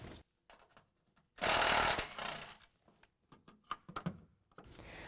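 Bolts being loosened with a 12mm tool under a 2022 Toyota Tundra, a long loud burst of power tool ratcheting, then scattered clicks and metallic clanks nearby.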